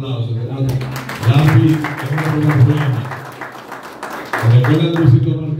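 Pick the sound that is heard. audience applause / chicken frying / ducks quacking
audience applause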